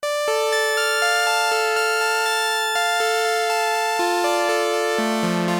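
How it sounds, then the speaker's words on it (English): A Vongon Replay synthesizer sequence steps through bright, harmonically rich notes in a steady repeating pattern, each note clearly attacked, playing alone and loud. "we're going to start by creating a sequence on my Vongon replay"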